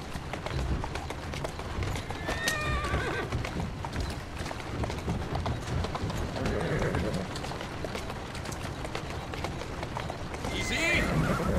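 Horse hooves clip-clopping and neighing from the video game Assassin's Creed Syndicate, with a carriage on the move; steady hoof rhythm under continuous rumbling, a whinny partway through, and voices talking across it.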